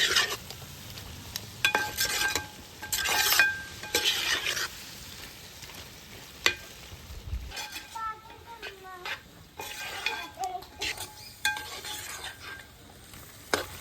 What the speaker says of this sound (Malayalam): എല്ലാം നല്ലപോലെ മിക്സ് ചെയ്യുക.